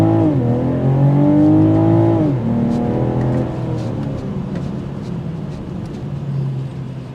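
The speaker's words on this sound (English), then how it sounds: "382 horsepower, 369 pound-feet of torque, sport mode." A 2023 BMW M440i Gran Coupe in sport mode accelerates hard, its engine note climbing loudly, dipping at a shift, then settling into a steadier, fading drone.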